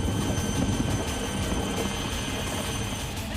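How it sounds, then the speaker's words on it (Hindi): An Indian Army Cheetah helicopter flies during a flood rescue in Punjab, its engine and rotors a constant broad roar that stays steady and fills the scene without any voices. "सेना का चीता हेलीकॉप्टर उन लोगों के ठीक पास पहुंचता है"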